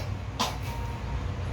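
A single short cough from a person with pneumonia, sharp and fairly close, over a low steady hum.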